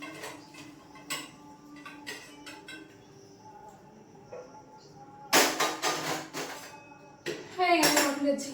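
Metal cooking and serving dishes being set down in a home kitchen: sharp, close clatters in two clustered bursts over a quiet room, with scattered light ticks and some talking.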